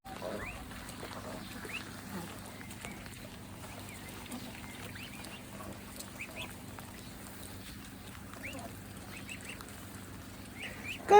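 Goslings and ducks on a country lane give repeated soft peeps and quacks, scattered and fairly faint over a low background hum, ending with a brief louder noise.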